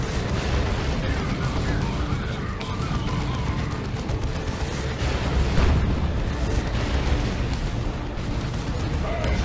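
Continuous heavy video game battle noise with rumbling blasts and bursts of lascannon fire, dense and loud throughout, with voices mixed in.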